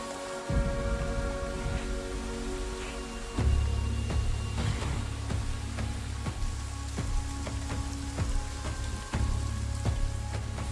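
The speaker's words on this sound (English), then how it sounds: "the rains broke." Steady rain falling on the savanna after a long drought, a dense continuous patter of drops with occasional louder splashes, heard alone without voices.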